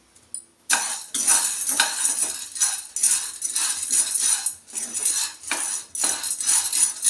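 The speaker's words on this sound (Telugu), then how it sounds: "ఫస్ట్ మనము అలసందని దూరగా వేయించుకుంటాము" Black-eyed peas (alasanda) dry-roasting in a pan, with a close, loud scraping and clinking of a metal spoon stirring against the pan in repeated strokes after a short quiet start.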